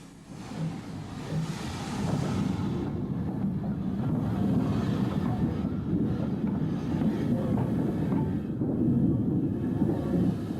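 A British Rail railcar runs along the rails with a steady rumbling roll and rattle, plus some wind buffeting, for about ten seconds without speech.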